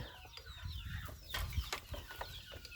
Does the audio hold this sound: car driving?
no